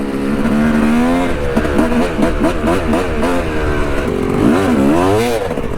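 Yamaha YZ dirt bike ridden at Busco Beach riding park, its engine loud and close with rising and falling revs as it pulls away, a steady buzzing drone throughout.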